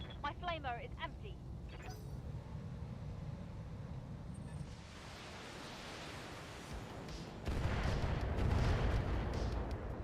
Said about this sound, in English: Just pretty flashy lights and a bunch of missiles.